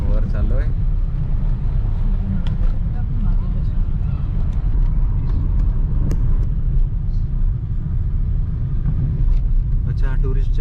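A car climbs a hill road toward Sanchi Stupa, its steady low engine rumble mixed with wind buffeting, heard from inside while passengers talk intermittently.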